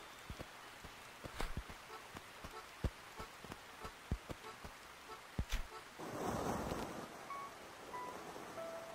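Rain in a video game, scattered sharp drops tapping on a surface, then a louder burst of patter and hiss toward the end, with no voices.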